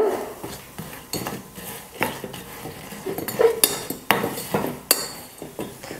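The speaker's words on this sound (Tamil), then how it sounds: "வெல்லத்தை நல்லா கரைச்சி எடுத்துட்டேன்." Jaggery is stirred into water in a cooking vessel, the spoon scraping and clinking against the metal in a steady, close rhythm of repeated strokes.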